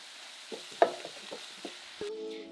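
Shrimp egg roll filling cooks in a pan over medium heat: a soft, low sizzle broken by a few quiet stirring scrapes and clicks, with no talking.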